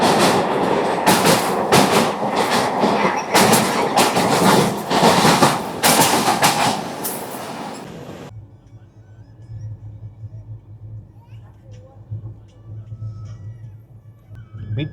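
Vivek Express long-distance passenger train from Kanyakumari to Dibrugarh, India, rolling loudly over rails with rhythmic clickety-clack of wheels for about eight seconds, then the roar drops abruptly to a low, distant rumble and hum.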